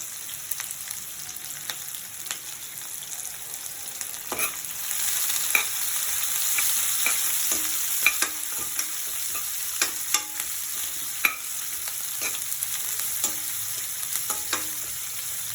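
Onions and tempering seeds (cumin, urad dal, mustard) frying in a pan for cashew upma, a steady soft sizzle punctuated by repeated clicks and taps of stirring throughout.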